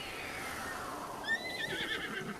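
A horse in a video game lets out one fairly quiet, high whinny that rises and then trails off, heard alone with no talk.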